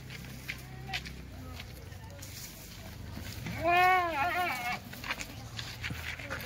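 A Kathiawadi goat gives one clear, wavering bleat midway among a farm herd, over faint background voices and shuffling.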